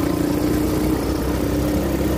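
A new 250cc ATV engine idles steadily and close by, a continuous low rumble with a faint hum, no voices over it.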